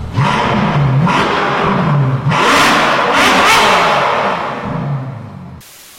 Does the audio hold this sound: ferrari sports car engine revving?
yes